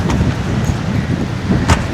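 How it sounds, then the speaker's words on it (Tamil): Strong seasonal Chola wind blowing at the coast near Pandiyankulam, Mullaitivu, Sri Lanka, a steady low rumbling roar of gusts buffeting the microphone, with brief louder bursts and no one talking. "சோழ காற்று தானே"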